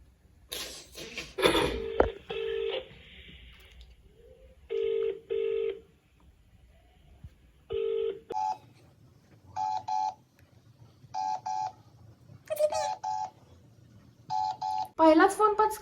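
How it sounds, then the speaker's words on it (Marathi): A phone dialing a number, a series of short DTMF keypad tones in spaced bursts, close and clear, with brief voices and handling noise at the start and end. "मी नंबर डायल करत आहे"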